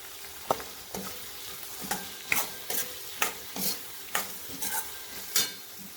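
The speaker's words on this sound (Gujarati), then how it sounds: "ડુંગળીને આપણે થોડું કલર ચેન્જ થાય ત્યાં સુધી આપણે થોડી બ્રાઉન થવા દઈશું" Chopped onions with a pinch of salt fry and brown in a pan, stirred with a steady hiss of sizzling broken by sharp, regular spoon taps and scrapes about every half second, close and clear with no talk.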